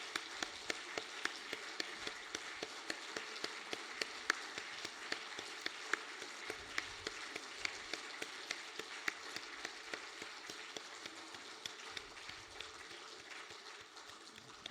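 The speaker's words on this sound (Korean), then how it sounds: "우리 사랑부 또 친구들 우리 선생님들 자리에 앉으실 때까지 힘찬 박수로" A church congregation at a Wednesday evening service applauds steadily for about fifteen seconds, a dense, even patter of many hands heard from a distance at moderate level, without voices.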